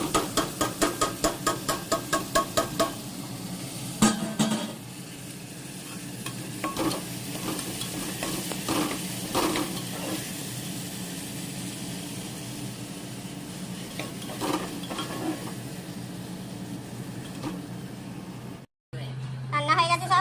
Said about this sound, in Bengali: মশলাটা দিয়ে কষাবো এখন একটু।